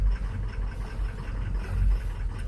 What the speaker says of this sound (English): See, as I put it in neutral, it revs up.